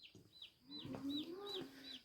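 Young chicks chirping in a sunny backyard coop, a run of thin, repeated high peeps with occasional louder clucking calls from a hen nearby, close and clear with no talk.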